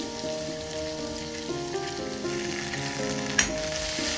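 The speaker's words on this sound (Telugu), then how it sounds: "పచ్చివాసన పోయేంత వరకు వేయించుకోండి బాగా." Onions and ginger-garlic paste frying in hot oil, a constant close crackling sizzle with faint stirring sounds and one brief clink, no voices.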